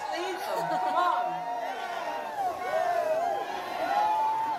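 A Save the Rail rally crowd in the Adirondacks cheers and whoops at a drone, a broad roar of many voices with shouts rising above it.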